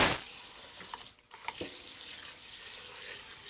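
Cold tap water runs into a Dutch oven to rinse sushi rice, a steady close hiss of flowing water with a short break midway and light splashing.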